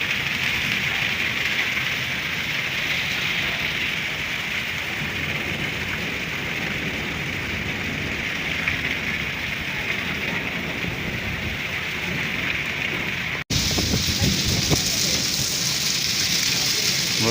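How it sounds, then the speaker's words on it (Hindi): Heavy stormy rain in a village, a continuous hiss of downpour drumming on surfaces, with a short break near the end and a voice speaking over it at times. "ये देखें बारिश, तूफानी बारिश फिर से आ गई।"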